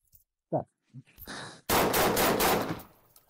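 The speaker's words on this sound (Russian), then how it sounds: "Четыре выстрела." Rifle fire from a Vepr or Saiga semi-automatic fitted with a muzzle brake on a shooting range, several loud sharp shots in a quick cluster after a few faint clicks, each crack ringing out with a long echoing tail.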